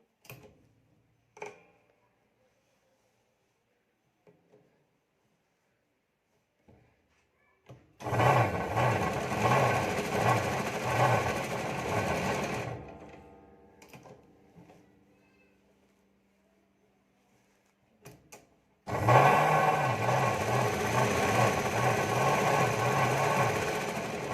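A sewing machine stitching blouse fabric, running in two sustained bursts of rapid rhythmic whirring and clatter separated by quiet with small handling clicks, close and loud.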